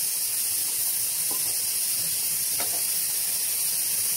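Curry leaves sizzle in a hot pan after coconut has been roasted, giving a constant bright hiss that stays even from start to finish, with a few faint clinks beneath it.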